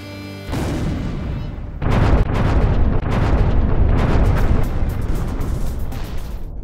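An explosion welding charge goes off with a sudden deep blast after a short quiet lead-in, followed by a sustained rumbling roar, crackling debris and scattered impacts that slowly fade.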